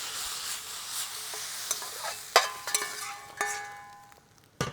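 Meat searing in a hot pan with a little sesame oil for a Korean dish, giving a steady close sizzle broken by sharp clicks and clinks of utensils against the pan.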